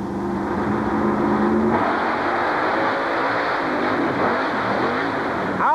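A Chevrolet monster truck with cantilever suspension drives at a 1991 USHRA event in Uniondale, its engine a loud, steady roar filling the whole clip with arena crowd noise.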